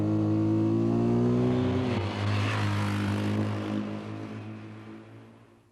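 A getaway motorbike rides off through rush-hour traffic on a main shopping street. Its engine revs hard close by, then the pitch drops and the sound fades steadily into the distance.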